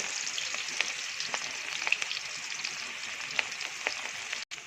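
Onions frying in hot oil for a bottle gourd curry, heard as a steady, fairly quiet hiss with faint crackles scattered throughout and no voices.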